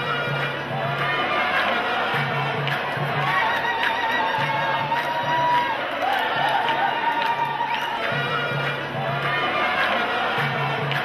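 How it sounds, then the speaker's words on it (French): A festive crowd fills a street in Oran on May Day in spring, a dense, steady wash of chatter and shouts with a few whistles rising over it, people close and far all around. "La bonne humeur et la joie de vivre éclatent au grand jour et la foule s'approprie, s'empare pendant une journée printanière de la rue"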